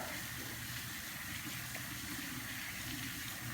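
Water pours in a steady, close, continuous gush while being added to flour in a bowl for wild-yeast bread dough. It runs unbroken for a few seconds with no talk.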